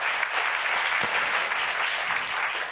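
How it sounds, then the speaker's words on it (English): Audience claps at a talk on implementing the 2030 Agenda, a loud, dense, continuous round of applause from start to finish with no speech over it. "And now you get a chance to applaud yourselves"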